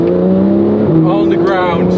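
A Porsche 911 GT3 RS flat-six engine drones loudly and steadily, heard from outside the car, then its pitch drops briefly and climbs again as it revs through a gear change, close and continuous.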